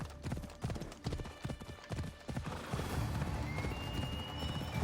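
A horse galloping through a graveyard in Assassin's Creed Odyssey, with rapid rhythmic hoofbeats close up for a couple of seconds, then giving way to a louder rushing wash of game sound.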